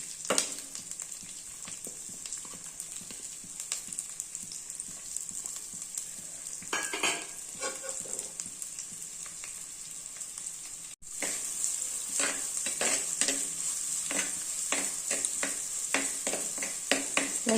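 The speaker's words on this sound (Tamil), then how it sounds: "வெங்காயம் ஒரு 2 நிமிஷம் நல்லா வதங்கட்டும்." Onions and curry leaves sizzle and crackle steadily in hot oil, with a few scrapes of stirring and a louder burst of frying partway through.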